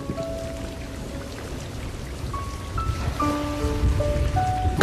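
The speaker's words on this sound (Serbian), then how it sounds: "Napolju pada kiša." Rain falling outside, a steady patter of drops on a surface that grows louder toward the end, mixed with faint tonal background sounds and no talking.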